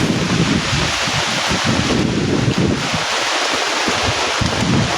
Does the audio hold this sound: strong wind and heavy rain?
yes